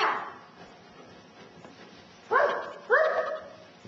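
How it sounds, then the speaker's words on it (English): A single dog gives two short, clear barks near the end of a quiet stretch, moderately close and not very loud. "that's a dog"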